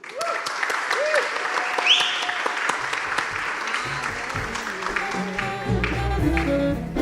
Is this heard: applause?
yes